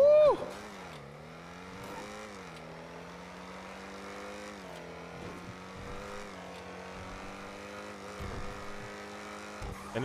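A tuner car on a test drive, its engine droning steadily from inside with rising and falling pitch as it accelerates and shifts, fairly quiet, with a few bumps and clicks.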